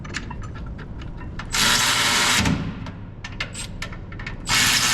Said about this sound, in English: I always like to come back through it after using a power tool, especially those ratchets.